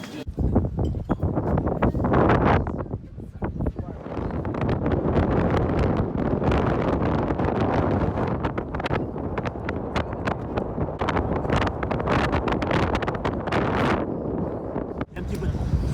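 Wind gusting at the seaside near The Rock restaurant off Zanzibar, buffeting the microphone with loud, rough rumbling that rises and falls throughout, with people talking faintly underneath.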